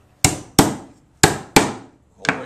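A hammer drives nails into a wooden bluebird box, with five sharp, loud strikes in an uneven rhythm, each ringing briefly before decaying, and no voices.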